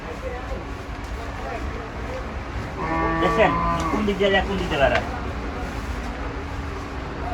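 Cattle at Gabtoli cattle market, Dhaka, low moos rising from about the third to fifth second over busy crowd chatter and market hubbub, fairly close and moderately loud.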